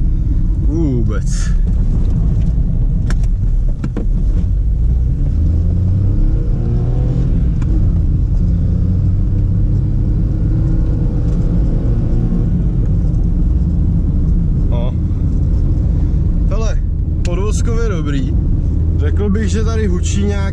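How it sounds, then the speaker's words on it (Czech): A worn wheel bearing on a Škoda Fabia drones in a low, steady hum beneath road rumble while the car is driven, with people talking over it for most of the stretch. "tady hučí nějaký ložisko"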